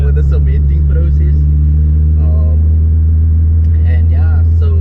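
A 160 kW Honda B20B without VTEC, fitted with pocketed stock pistons and a skimmed block, runs with a loud, deep, steady engine drone throughout as people talk over it.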